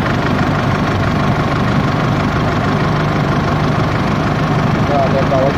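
An Isuzu truck engine idles in a workshop during a coolant change: a steady, loud, low diesel rumble with an even rhythm throughout, while a person talks over it.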